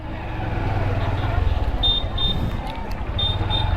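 Road traffic crawls in a heavy jam beside a rail line near a fair, with a steady low engine rumble, a few short electronic beeps and nearby voices.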